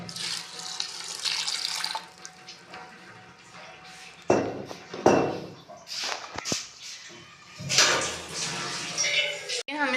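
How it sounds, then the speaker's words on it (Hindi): Water splashes and pours into a metal pot in bursts, with clinks of cookware between, while cooking beef with turnips. "इसमें हम पानी ऐड करेंगे।"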